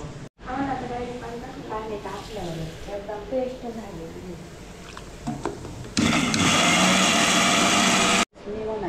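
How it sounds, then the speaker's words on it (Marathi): A person talks over a quiet background before a mixer grinder bursts into a loud, steady whir, grinding garlic, red chilli and salt for chutney for about two seconds before cutting off abruptly. "त्याच्यात लसूण, मिरची, मीठ आता मिक्सरमध्ये बारीक करून घ्यायची मस्त."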